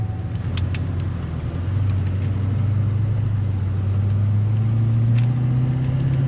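A 2006 Chevrolet Silverado with the LBZ diesel, which has an electrical fault with failing modules, drives on the road, its engine a steady low drone that climbs gradually in pitch as it accelerates. Faint jingles and rattles sound inside the cab, and nobody talks.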